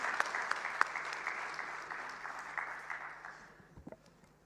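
Applause from a dinner audience after a speech, a dense burst of many hands clapping that gradually thins and fades, ending in a few scattered claps.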